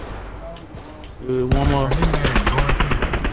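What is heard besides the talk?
gunfire in the video game Fortnite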